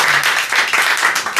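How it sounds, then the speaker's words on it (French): An audience applauds the student performers of a drum music school, a brief burst of dense, bright clapping that stays loud from start to finish. "Et on applaudit"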